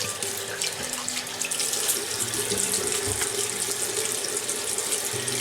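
Cold water runs from a tap to wet an alum block for shaving, a dense continuous gush and splatter into the sink, loud and close with no talking.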